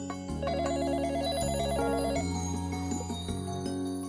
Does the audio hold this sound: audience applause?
no